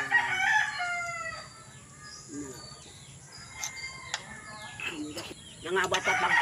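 A rooster crows outdoors at a home alongside chickens clucking, a drawn-out cock-a-doodle-doo at moderate distance with scattered bird calls and faint background voices.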